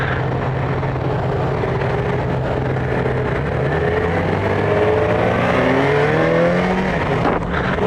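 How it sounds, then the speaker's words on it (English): A Yamaha FJ motorcycle engine idles fast at about 1,300 RPM during a demo ride, a steady loud drone with shifting harmonic tones and no voices over it. "Rev RPM is a little high here,"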